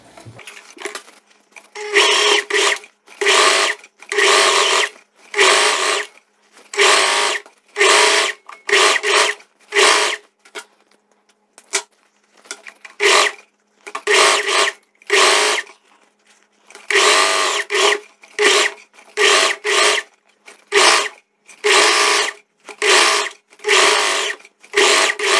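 A sewing machine runs a simple folded hem on a loose viscose dress in repeated bursts, short whirring runs stopping and starting in a steady rhythm, close and loud with no talk.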